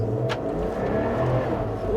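An INEOS Grenadier pulls away from a start, its engine droning steadily with a building rev heard from inside the cabin, a low continuous growl throughout.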